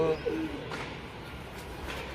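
Soft, low pigeon coos sound briefly at the start against a background murmur, fairly close and quiet.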